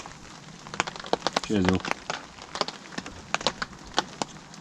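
Heavy rain patters and ticks sharply on a car while camping on a wet night, with dense irregular drops close by and a brief spoken toast over it.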